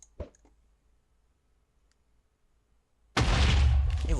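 A snowball grenade explodes in Minecraft, a sudden loud, deep blast that bursts in after near silence and a couple of faint clicks, then keeps rumbling to the end.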